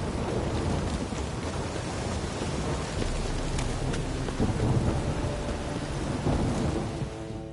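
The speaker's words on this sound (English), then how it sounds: "A storm, damn it." Steady heavy rain pours through a thunderstorm in The Witcher 3, with a constant dense hiss and deep rolling thunder swelling toward the middle.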